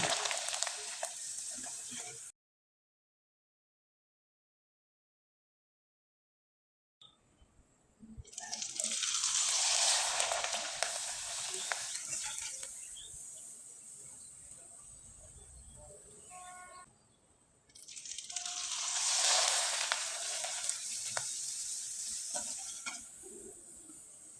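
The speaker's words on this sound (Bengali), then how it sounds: "একইভাবে কয়েকটা পিঠা আমি আপনাদের ভেজে দেখিয়ে দিচ্ছি" Rice flour pitha cakes frying in hot oil, two long loud bursts of bubbling hiss as batches go in, separated by a silent gap and a quieter simmering stretch.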